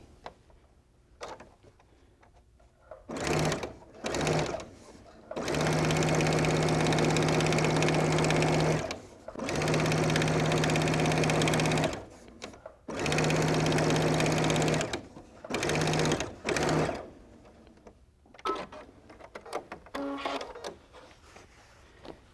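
A sewing machine top stitches a handbag in several separate runs, some long and some short, each with a close, steady motor hum. Quiet pauses between the runs hold light fabric handling.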